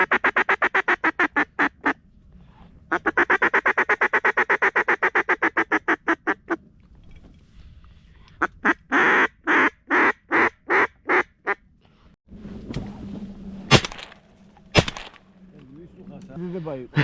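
Ducks honk and quack in rapid repeated bursts at close range during a duck hunt, with broadband blasts and faint rustling between the calls.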